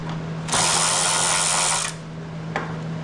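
A ratchet with an 8 mm socket works on a 2004-2012 Chevy Colorado/GMC Canyon engine, a single close burst of rapid clicking lasting just over a second, then one short click, over a low steady hum.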